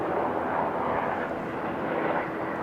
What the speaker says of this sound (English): There's a wide body Qantas pushback on the International.